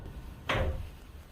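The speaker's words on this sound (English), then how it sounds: "Can you push on that door again?" A door in a farmhouse is pushed, giving one sharp knock-like thump followed by a brief creaking rattle that fades within half a second, in a quiet room.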